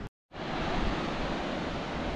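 A river flowing out to open water on the Cantabrian coast, a steady close rushing wash that starts after a brief silent gap and holds evenly loud to the end.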